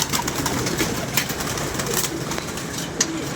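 Caged pigeons kept for sale coo in a soft continuous chorus with occasional louder calls, nearby, with no speech.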